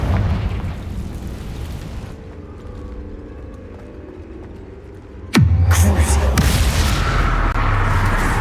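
A Confringo blasting spell goes off in the Hogwarts Legacy video game inside a cave: a sudden loud boom with a deep rumbling tail, following a stretch of quieter low ambience.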